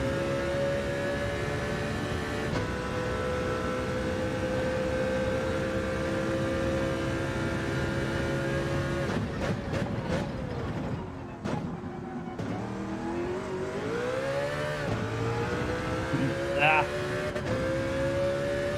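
A race car engine in Gran Turismo 7 drones steadily with harmonic whine, its pitch shifting through gear changes and revs, with brief tire noise, heard continuously under faint background talk.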